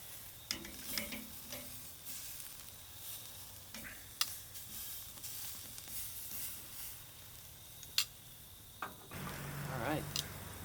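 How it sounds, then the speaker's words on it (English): Thick-cut pork chops searing on a Weber kettle grill give a quiet, continuous hiss, broken by a few sharp clicks and taps as they are flipped, with the sizzle swelling briefly toward the end. "I'm just gonna give these a quick flip. Sear them on the other side."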